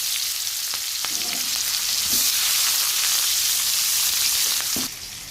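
Onions hit hot oil in a pan and fry with a loud, steady, close sizzle that fades slightly at the end, with faint stirring scrapes underneath.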